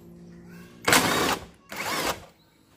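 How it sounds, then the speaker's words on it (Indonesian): An impact driver backs out trunk lamp bolts on a 2007 Honda Civic FD, giving two short, loud, close rattling bursts of about half a second each with a brief quiet gap between them. "Pakai impact ini. Senang saya pakainya,"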